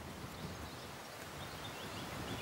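Wind blowing across a commercial fishing lake, a steady broadband rush with rustling and microphone buffeting, moderately faint and continuous, with no voices.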